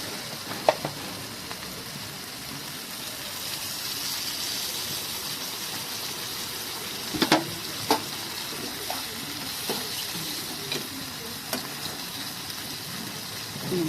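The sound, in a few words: water poured into hot frying pan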